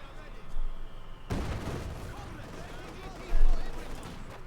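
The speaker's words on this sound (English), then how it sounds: "mortar firing down there" Mortar fire in a Company of Heroes 2 match: after a quieter start, a heavy burst hits at about 1.3 s, then a dense wash of battle noise follows with low thuds and another boom near the end, with talk continuing over it.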